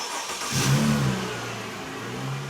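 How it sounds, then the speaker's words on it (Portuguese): A car engine starts and revs as the vehicle pulls away, a loud rising rumble near the start that settles into a steady engine drone, with the fender still scraping slightly on the ground. "O motorista deu a partida no carro e começou a andar."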